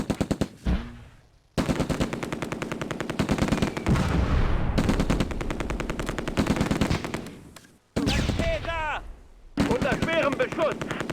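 Bursts of .30 cal machine gun fire ring out in the Close Combat: A Bridge Too Far war game, loud rapid rattling volleys separated by short pauses, with other gunfire mixed in and a player's voice briefly speaking.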